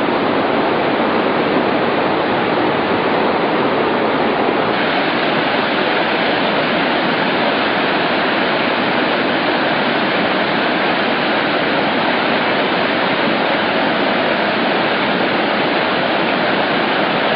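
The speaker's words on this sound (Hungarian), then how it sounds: "sok-sok forrás és patakocska, csermely táplálja ezt a zúgó folyót" A rushing mountain river in the Carpathians roars with a loud, constant, dense wash of whitewater, unbroken and close throughout with no voices.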